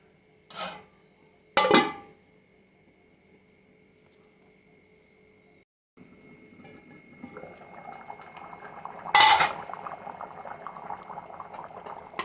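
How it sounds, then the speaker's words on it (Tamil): Fish curry made with catfish simmers in a covered pot, a quiet steady bubbling with a faint hum, broken by a few sharp clatters, then the boil grows louder and busier toward the end. "இப்போ ஒரு 5லேருந்து 7 நிமிஷம் குழம்பு நல்லா கொதிக்கணும்."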